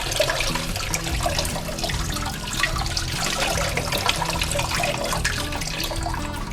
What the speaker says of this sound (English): now I will rinse under running water to wash away all the baking soda or salt or any leftover.